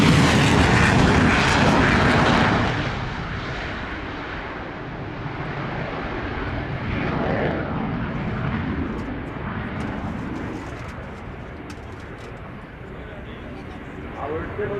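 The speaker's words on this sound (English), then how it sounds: "it's turned around, ready for takeoff" F-16 fighter jet taking off at an air show, a loud roaring engine rumble that is strongest at the start and then holds as a broad, slowly fading, distant-sounding roar across the whole stretch.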